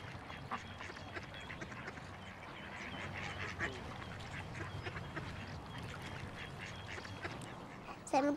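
Geese honking and quacking at close range over a steady outdoor background hiss, with a louder burst of honks right at the end.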